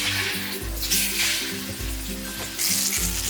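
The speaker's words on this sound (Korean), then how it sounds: "중불로 줄이고 두부를 계란물에 담갔다가 팬에 올려주세요" Tofu dipped in beaten egg sizzles and spits steadily in an oiled pan over medium heat, a close, continuous frying hiss with faint scraping.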